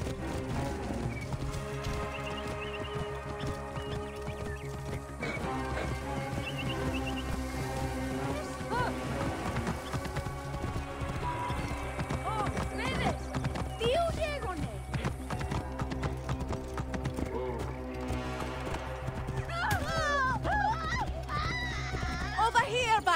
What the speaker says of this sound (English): Pegasus, huh? I like it. It suits a horse.